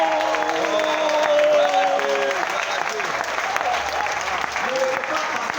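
An audience at a large conference claps and cheers in a dense, sustained wave of applause, with voices and shouts mixed through it and a speaker talking over the crowd.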